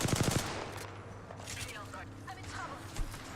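A video game firefight opens with a quick burst of rapid automatic gunfire that soon gives way to quieter, scattered game noise and a single faint shot near the end.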